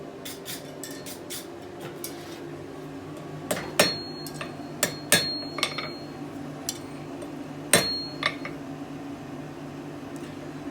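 Hammer blows and clinks on a hot steel fire steel being forged, with several sharp metallic strikes spaced irregularly over a low steady forge hum, close and fairly loud.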